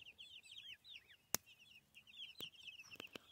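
Chickens cluck and chirp softly in the background of a building site, with several sharp knocks or bangs cutting in, all fairly faint and without talking.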